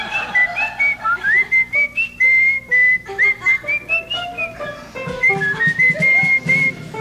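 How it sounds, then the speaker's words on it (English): A person whistles a wavering melody alone, clear and close, with short phrases separated by brief breaths and a faint hum in the background. "Can we hear your whistle?"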